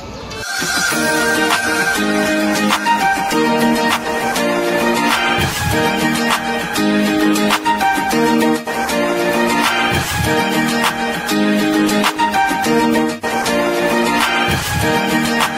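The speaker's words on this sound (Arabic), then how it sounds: "ده كده صوت النضارة على الطبيعة." Music played back through Pro One PSG41 smart glasses speakers, a dense continuous track with a steady rhythmic pulse, loud and close, no talking.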